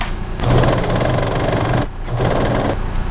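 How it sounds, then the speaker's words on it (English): A sewing machine runs stitching down the edge of old bedsheet fabric, a loud, close, rapid mechanical whir that pauses briefly once before carrying on. "flip it to its right side, go back to it straight, sew this edge down"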